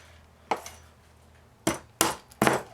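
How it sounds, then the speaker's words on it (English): Four sharp metallic hammer strikes on a laminator motor being broken apart for scrap copper, close and loud, spaced irregularly with the last three coming in quick succession over a quiet background. "just give a couple whacks with a hammer"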